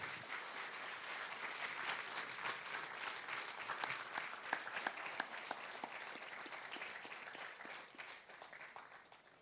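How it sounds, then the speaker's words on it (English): Steady applause from the audience at a Kuchipudi dance debut recital, fairly faint and distant, a continuous wash of many hands clapping that softens toward the end. "Please give a good round of applause for this esteemed team."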